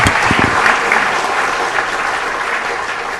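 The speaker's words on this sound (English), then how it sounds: "Give them all a big round of applause" Loud, sustained applause from an audience at a city council meeting, a thick wash of clapping that starts strong and holds, with no voices on top.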